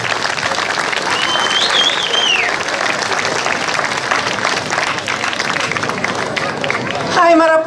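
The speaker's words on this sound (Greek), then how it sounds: "Ένα δυνατό χειροκρότημα τώρα να ακουστεί μέχρι το φανάρι πάνω." Dense, loud applause from a crowd at an outdoor village festival on 15 August, with hubbub and a few shouts rising through the sustained clapping, which swells again near the end.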